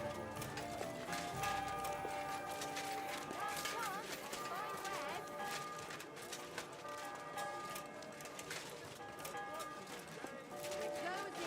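Horse hooves clip-clopping in the video game Kingdom Come Deliverance 2, a steady running beat under dense game music and ambience, moderately loud throughout.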